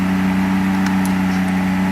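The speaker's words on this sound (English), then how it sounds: "I also will be able to blimp the throttle real quick." Mercedes 600SL engine idling steadily after repair, a loud continuous low hum with a faint brief rise as the throttle is blipped, recorded close between houses.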